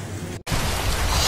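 Heavy nighttime rain in Pombal, in the backlands of Paraíba, Brazil, as a loud, steady broadband hiss of downpour that cuts out for an instant and then returns even denser.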